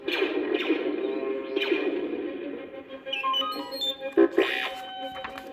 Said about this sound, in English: He burst in, beeping furiously to C-3PO.